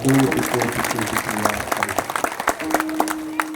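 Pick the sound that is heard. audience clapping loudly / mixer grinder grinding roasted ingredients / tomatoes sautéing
audience clapping loudly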